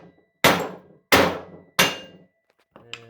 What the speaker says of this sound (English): just hit it with a hammer